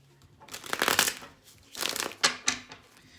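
Tarot cards are shuffled close by in two crisp rounds of riffling and flicking, each ending in a couple of sharp snaps, quiet overall with no talk.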